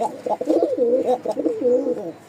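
A Lotan pigeon coos repeatedly in soft, throaty, rolling phrases as it is set into its clay nest pot, close and clear with no talk.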